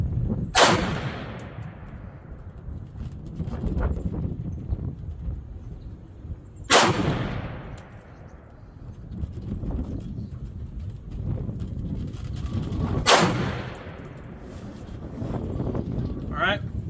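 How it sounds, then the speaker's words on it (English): Three loud, sharp gunshots from a .308 battle rifle, either an M1A or an AR10, evenly spaced about six seconds apart outdoors, each with a long rolling echo, amid gusty wind noise and someone speaking between shots. "Alright, last round, bolt hold open"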